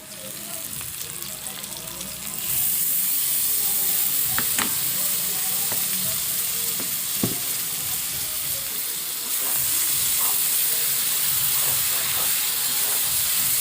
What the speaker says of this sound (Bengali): খুব ভালোভাবে কষানো